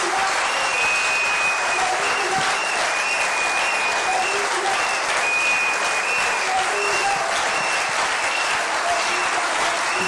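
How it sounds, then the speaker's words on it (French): A church congregation applauds loudly and continuously, a dense steady roar of clapping with crowd noise throughout. "Nous l'acclamons très fort, très fort, très fort."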